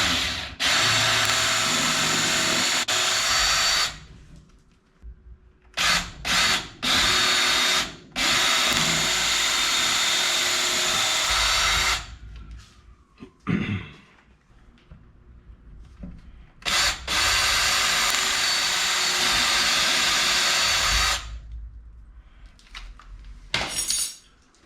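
A right angle drill bores number 30 pilot holes in rudder pedal parts for a Van's airplane build, sounding in several loud, close, sustained bursts separated by brief quiet pauses and light handling noise.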